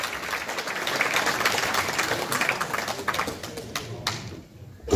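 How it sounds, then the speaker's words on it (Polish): Applause from a gala awards audience rises as a dense, steady patter for about four seconds, then thins and fades before a sharp noise at the end. "Brawa dla pana Krystiana, brawa dla pana prezesa."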